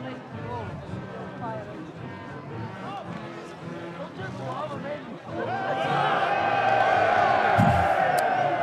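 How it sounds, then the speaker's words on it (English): A crowd on Lerwick's main street during the Up Helly Aa torchlit procession bursts into loud cheering and whooping as the street lights go out, rising from a babble of voices into a sustained roar. "Cheer for the lights going out."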